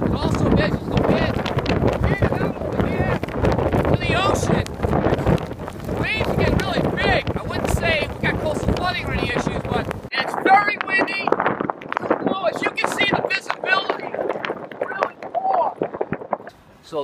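Strong winter wind on the coast at Atlantic Road buffets the microphone in loud, rough gusts, running under someone talking throughout.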